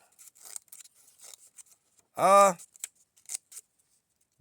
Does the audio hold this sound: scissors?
yes